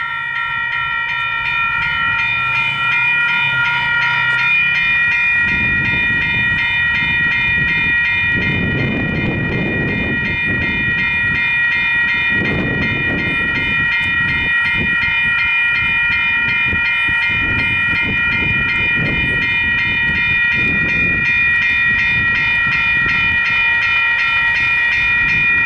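A train rumbles past at close range over a pedestrian level crossing at a station, with the crossing bells' steady high-pitched ringing sustained throughout and heavy low rumbling surging in waves.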